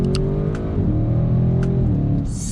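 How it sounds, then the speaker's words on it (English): A 2020 Audi RS6 Avant on its standard exhaust accelerates hard in first gear, giving a loud, continuous low growl with a gurgling edge and rising engine pitch, heard close and alone. "this isn't even the sports exhaust, and it has such a like low frequency growl and just gurgle to it"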